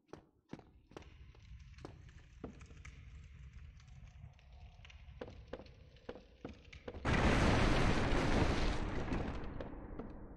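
Explosive barrels blow up in a video game: after several seconds of quiet thuds and footsteps, a sudden loud, roaring blast lasts a few seconds before slowly fading.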